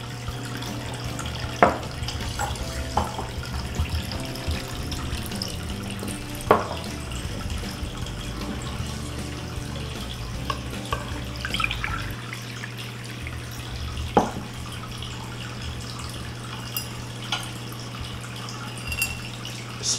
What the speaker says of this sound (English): I gotta pour this out into the glass so you can see the color.